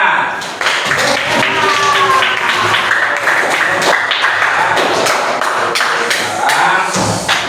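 Classroom of students clapping together in dense, fast, continuous applause, loud and close, with voices mixed in.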